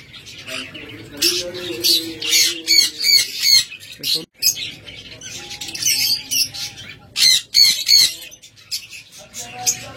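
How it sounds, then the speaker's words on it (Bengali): Red-eye lovebirds in a breeding pair setup squawk in sharp, repeated bursts of shrill calls, close and loud, with someone talking between and over the calls. "দেখুন চমৎকার অফলাইন লাভবার্ড রেড আই"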